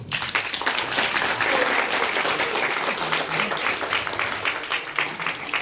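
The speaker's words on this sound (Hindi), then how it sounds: "डॉक्टर साहब से जोरदार तालियां" Loud, sustained applause from a crowd honoring a doctor at a talk on correcting a displaced navel, a thick, continuous roar of clapping from many people lasting several seconds, with faint voices underneath.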